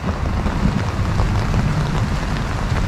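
Steady rain pours during a typhoon at a rural house project in Pangasinan, a loud, even wash of hiss and low rumble filling the whole stretch with no talking.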